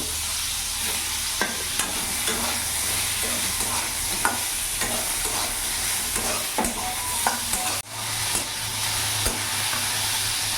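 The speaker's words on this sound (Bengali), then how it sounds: "এরই মধ্যে ঝিঙ্গেটাকেও একটু ভেজে নেব।" Ridge gourd shallow-fries in a pan with a dense, even sizzle and regular scrapes and taps of a spatula, and one brief sharp knock partway through.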